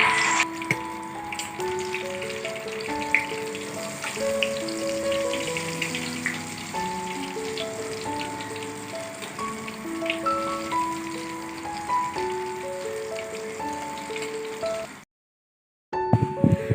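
Mushroom pakoras fry in hot oil over a lowered gas flame, a steady crackling sizzle running nearly throughout with background music layered over it, then cutting out briefly near the end.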